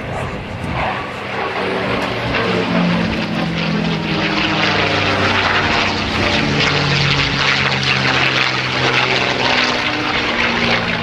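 Steady loud drone of a propeller warplane with a laminar flow wing passing close overhead at an airshow at NAS Oceana, its engine roar sustained and unbroken throughout.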